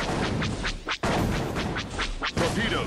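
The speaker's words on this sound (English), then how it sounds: "Torpedoes." Torpedoes fire in a Star Wars space-combat level of Disney Infinity 3.0 as a rapid run of whooshing launch bursts, repeating several times a second over dense, loud game noise.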